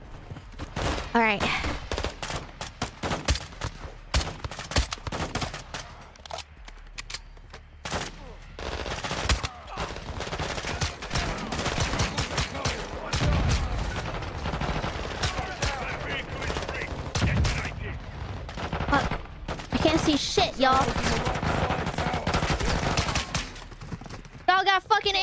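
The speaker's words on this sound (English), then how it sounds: "My men need cover fire." Sustained bursts of automatic rifle fire and scattered gunshots as cover fire in Call of Duty: Modern Warfare II, loud and continuous across the whole stretch, with soldiers shouting and talking over the shooting.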